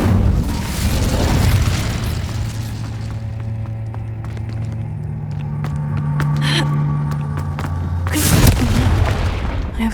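An Incendio fire spell blasting in Hogwarts Legacy, a loud booming whoosh of flame with rumbling low end that swells again near the end, game sounds layered throughout.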